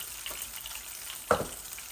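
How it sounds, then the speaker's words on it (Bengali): Whole cumin seeds hit hot oil in a pan while a fish-head curry is being cooked, giving a soft, steady sizzle that flares into one brief, louder crackle. "এখন আমি একটু জিরা, আস্ত জিরা দিলাই"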